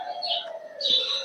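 Birds at a home pigeon loft in Narsingdi, with two bright, warbling chirpy calls over a steady lower hum, fairly close and moderately loud; no talking.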